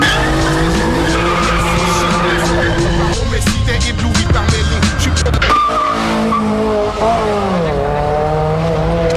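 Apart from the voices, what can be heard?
car being thrashed, tires skidding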